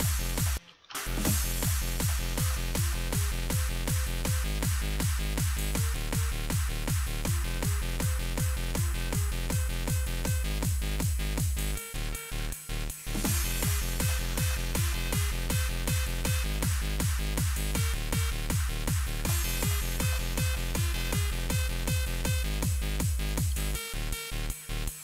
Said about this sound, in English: I'm going to put on the bassline, and it sounds like this.